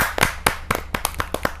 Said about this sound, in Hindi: मैं जोरदार तालियों के साथ डॉक्टर बलजीत कौर तन्हा जी का हार्दिक स्वागत करता हूं।